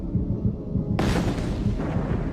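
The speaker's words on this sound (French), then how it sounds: "Ce film montre ce qui se passe pendant une explosion." A bomb explosion in film footage hits as a sudden broadband blast, then a sustained roaring rumble of the shock wave, loud and alone with no talk.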